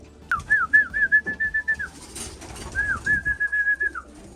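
Racing pigeons return to the loft after a 180 km race, giving two drawn-out warbling whistle calls, each falling at the end, close and clear with faint shuffling between.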